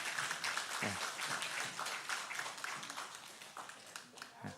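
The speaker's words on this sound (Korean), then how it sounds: "인사하실 때 큰 박수로 환영해 주시고" A church congregation at a Sunday service claps warmly to welcome new members, giving a soft, fairly distant wash of steady applause with no single voice standing out.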